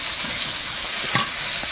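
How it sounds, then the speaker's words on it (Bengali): Chopped onion fries in a pan with dried red chilli, bay leaf and five-spice mix, making a loud, steady close sizzle with a brief stir scrape near the end. "শুকনো লঙ্কা দিয়েছি, তেজপাতা আর 5 ফোড়ন, পেঁয়াজ কুচি দেবো একটু"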